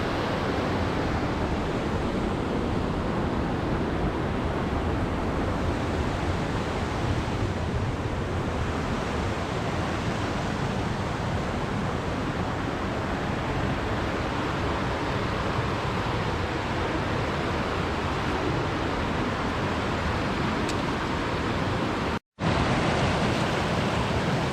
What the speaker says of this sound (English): A little waterfall making its way through the wild Scottish landscape.